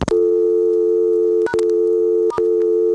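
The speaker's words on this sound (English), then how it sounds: "Let's try dialing star and pound on a dial tone, see what it does." A steady, loud telephone dial tone from an ITT Pentaconta crossbar switch in Asheboro, North Carolina, from 1977, holds alone and is briefly broken by a couple of short clicks and touch-tone beeps.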